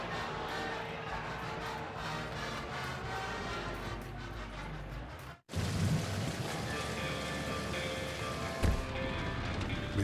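Steady rain pours during a stormy night driving scene in a windshield wiper blade advert, a dense continuous hiss with a brief dropout midway and a faint low rumble near the end.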